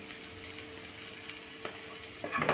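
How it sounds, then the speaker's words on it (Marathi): Green chillies fry steadily in a pan with a close, continuous crackling sizzle and light stirring scrapes, a bit louder near the end, with no voices. "बघू शकता तुम्ही छान आपली मिरची छान फ्राय झालेली आहे"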